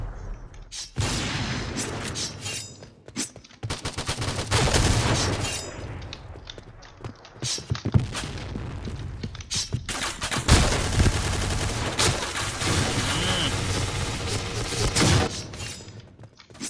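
Noveske N4 rifle firing at long range in the video game Point Blank: repeated loud bursts of rapid automatic gunfire, broken by short pauses, with occasional heavier thuds, and no talking over the shots.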